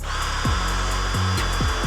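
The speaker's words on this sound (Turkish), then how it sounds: "Önce bir deliyorum vidalamadan önce." A cordless drill boring a hole before screwing, a loud high-pitched motor whine with several quick pitch swoops as the bit speeds up and bites into the material, no talk.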